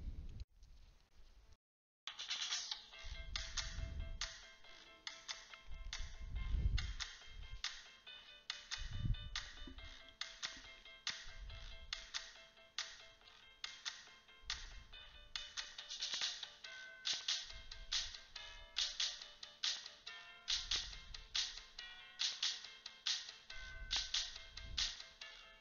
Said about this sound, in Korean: 다음은 스마트폰으로 음악을 재생해 보겠습니다